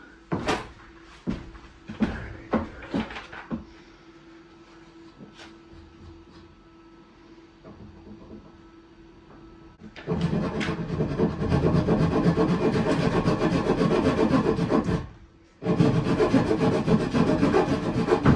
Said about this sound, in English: The rotary tool, or the oscillator tool.